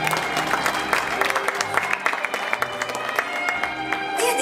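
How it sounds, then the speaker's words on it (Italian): An audience at a 2019 bridal fashion show in Turin applauds steadily for several seconds, a dense wash of clapping from a crowd in a hall with light voices mixed in. "Un applauso"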